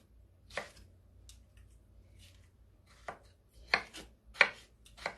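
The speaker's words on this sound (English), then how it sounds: "we're cutting those into bite-sized pieces" A knife chops mango into bite-sized pieces for a kale and quinoa salad, giving a few sharp, separate board knocks spaced irregularly, with the last three close together and loudest against a quiet kitchen.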